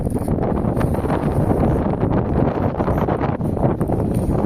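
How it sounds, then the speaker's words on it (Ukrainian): Strong wind roars and buffets steadily over the microphone, a loud continuous rush with gusty rumble and no speech. "Саме тут, в цьому місці, завжди такий сильний вітер, що заглушає вітер."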